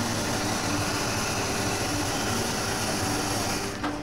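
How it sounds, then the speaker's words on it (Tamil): The Ooty toy train's steam engine runs steadily nearby with a dense, loud rumble and hiss, holding an even level throughout with no talk, at a station before departure toward Mettupalayam. "ஸ்டீம் இன்ஜின் ஸ்டார்ட் பண்ணியாச்சு, செமையாக இருந்துச்சு."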